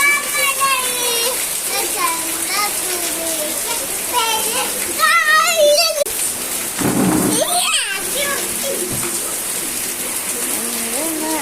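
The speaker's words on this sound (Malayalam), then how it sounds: "നല്ല മഴ കേട്ടോ ഗൈസ്. നല്ല മഴ." Heavy monsoon rain pours down in a steady, loud hiss throughout, while a child sings and people talk close by over the downpour.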